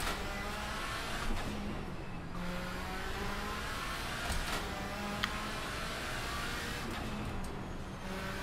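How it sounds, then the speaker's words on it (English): Race car engine in Assetto Corsa on the Pikes Peak hill climb, a steady loud droning rev with shifting pitch after a clutch kick, sustained throughout with small bumps and a brief click. "Clutch kick to get the power up there, maybe? Get those RPMs spooling."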